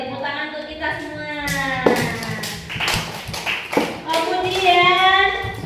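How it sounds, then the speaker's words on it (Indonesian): Children in a classroom clap along with sharp, rhythmic taps mixed with their chanting voices, close and lively. "Tepuk tangan untuk kita semua."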